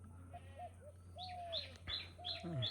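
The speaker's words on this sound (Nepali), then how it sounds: "ढुकुर कराइरहेको अवस्था छ।" Soft cooing of a dove in a small kitchen garden, a few low hollow notes repeated, alongside chirps of other birds in the distance.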